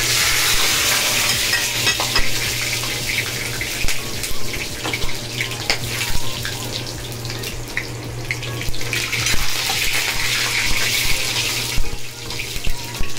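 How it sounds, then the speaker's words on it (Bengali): Whole garam masala spices (cardamom, cloves, bay leaf) sizzling in hot oil in a pan for prawn malai curry, a loud continuous close fry hiss with stirring scrapes and a low steady hum, no talking. "গরম মশলা দিয়ে দিলাম তেলে"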